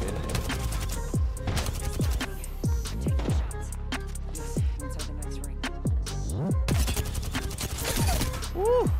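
Gunfire and weapon effects from the video game Apex Legends crack repeatedly throughout, with punchy shots and sweeping tones layered over a constant background rumble.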